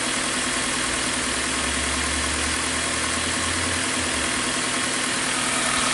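A 2015 Hyundai Accent with crankshaft sensor and fuel trim faults, running rich and prone to stalling, idles at low RPM with a loud, constant engine drone and a faint low rumble underneath.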